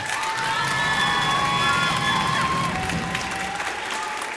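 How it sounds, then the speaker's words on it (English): Sustained applause and cheering from a school music program audience, loud and steady throughout, with shouts and whoops rising above the clapping. "For setting all this up, Taylor Green, give him a round of applause."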